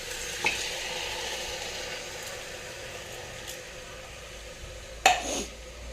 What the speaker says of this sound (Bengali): এখন এখানে দিয়ে দেবো ভিজে রাখা এই চাউল ডালগুলো